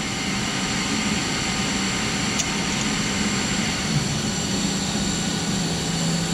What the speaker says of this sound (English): When we're done machining parts, they go over here into our tumbler.